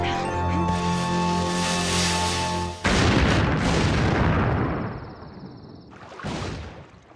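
A cartoon gunpowder blast goes off in a sudden, loud boom that cuts into the scene, followed by a long rumbling decay and a second smaller burst near the end.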